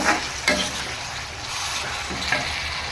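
Mango pickle pieces sauté in separated hot oil with a steady close sizzle and crackle, broken by a few soft stirring knocks against the pan.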